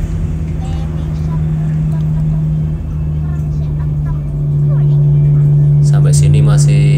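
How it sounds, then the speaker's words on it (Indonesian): Steady stream of cars and other vehicles on a road at night near villages, heard from inside a moving vehicle, with a constant low engine drone and passing swells. A voice speaks over part of it. "Sekitar jam 7 malam masih banyak kendaraan yang lewat ya."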